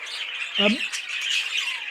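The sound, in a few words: caged bird squawking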